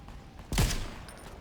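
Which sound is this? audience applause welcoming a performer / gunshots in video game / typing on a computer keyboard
gunshots in video game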